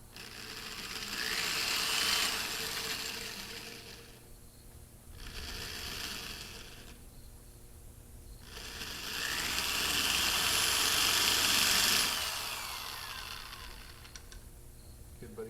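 A power drill with dull bits whirs in long bursts with short pauses between them, the motor whine rising and falling, some quiet background noise underneath, while fitting a modern wheel to a Model T.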